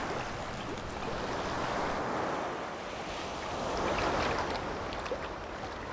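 Waves surging onto a southern sea coast roll in as a continuous broad wash of surf, swelling and easing twice in slow surges, with no voices over it.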